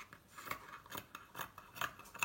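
Soft, quiet snips of fabric being cut from a plaid blanket, several irregular cuts in a row, close and alone with no talk.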